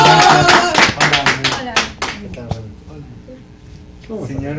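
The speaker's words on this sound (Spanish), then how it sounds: "Un fuerte aplauso para hoy campeón también mundial, mi amigo el Brazo Junior." Studio audience clapping for a wrestling world champion guest, loud bursts of handclaps and cheering at the start that fade under voices and music, then a brief rise again near the end.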